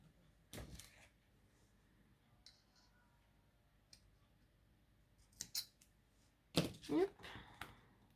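Scissors snip through paper for a handmade coffee-themed card, a few sharp crisp cuts in quick bursts with quiet pauses and light handling noises between, close and clear.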